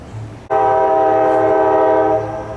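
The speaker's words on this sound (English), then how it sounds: "Sounds like a train is coming through as we go further down the hill" A train horn blasts suddenly after a short low rumble, holding a loud, steady multi-tone chord for nearly two seconds before easing slightly.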